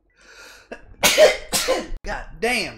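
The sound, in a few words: sneeze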